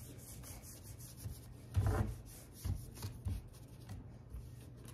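White wax is rubbed by hand onto painted upholstery fabric on a thrift-store chair, giving soft, close scrubbing strokes that swell in a few brief bursts over a quiet background.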